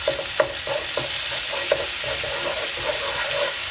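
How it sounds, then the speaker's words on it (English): Curry paste frying in a pan, loud close sizzle with a regular rhythm of stirring strokes scraping the pan roughly every third of a second, no talking. "do my curry paste now. Just to fry it up a wee little bit."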